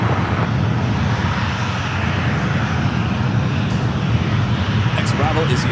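Boeing 777 airliner arriving at San Francisco airport, a loud, steady jet roar that fills the whole stretch, with voices talking over it.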